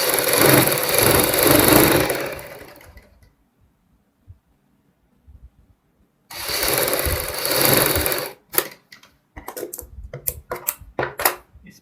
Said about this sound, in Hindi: इन निशानों को एक दूसरे से मिलाते हुए ऐसे इनके ऊपर सिलाई लगाएंगे